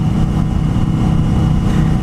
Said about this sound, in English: so I could kind of have you guys listen to what the bike sounds like